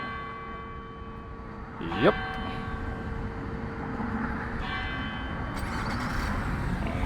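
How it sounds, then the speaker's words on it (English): Steady harmonic church bell tones from a nearby Presbyterian church ring on under broad outdoor rumble, with a brief passing swoosh; one short word is spoken. "Sounds like the bells are going off at the Presbyterian Church up the road"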